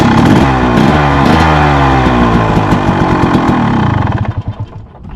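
A 2014 KTM 300 two-stroke dirt bike with a bad starter is started and runs loudly up close, a rough, revving engine drone that then sputters and dies away in uneven pulses near the end.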